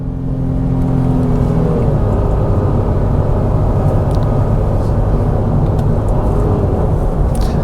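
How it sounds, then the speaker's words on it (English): Engine of a 2026 Honda Passport Trailsport Elite SUV with paddle-shifted 10-speed automatic, heard from inside the cabin as a loud, steady, sustained drone that rises in pitch early on, with no talking over it. "That VTEC just kicked in, yo."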